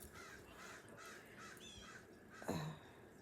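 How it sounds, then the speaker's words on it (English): A single crow caws once, fairly clear, against a faint outdoor background hiss. "You'll hear a lot of crows and that out there, and blue jays."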